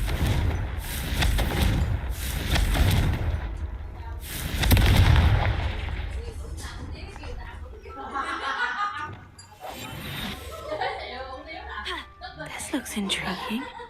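Blasting spell explosions in the Hogwarts Legacy video game, with heavy booming bursts in the first few seconds, then crackling effects and chatter under a speaking voice.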